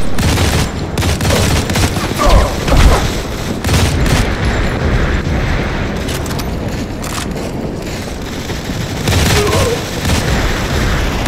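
Gunfire in the mobile shooter Modern Combat 4 on a Redmi Note 8: loud, dense bursts of automatic fire and booms packed tightly throughout, close and continuous, with brief voice callouts mixed in.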